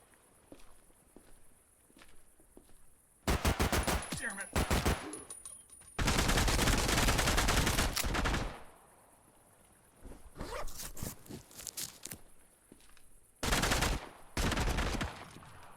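Bursts of automatic gunfire from a gun in the game Project Silverfish come in several loud, sustained volleys, each a few seconds long, separated by quieter stretches of footsteps and movement.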